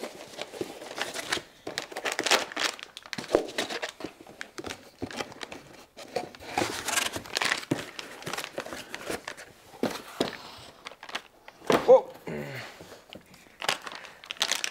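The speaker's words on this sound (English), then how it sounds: "Let's see if I can tear it open." Packaging of a Xilinx FPGA box being torn and crinkled open by hand, close and crisp, with irregular bursts of rustling, crumpling and ripping separated by short pauses.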